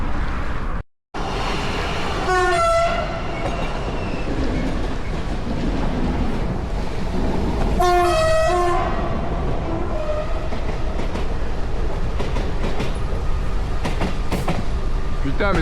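RER commuter trains rumble past nearby near Paris with a continuous loud roar and rhythmic rail clatter, and two horn-like tonal bursts sound briefly along the way.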